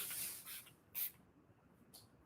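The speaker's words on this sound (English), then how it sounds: "And that is how you would apply the setting spray." Hydrating makeup setting spray misted onto a face: a few short, soft hissing spritzes, the clearest one near the middle, quiet and close with no talking.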